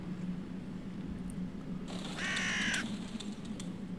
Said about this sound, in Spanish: Más cuervos por ahí.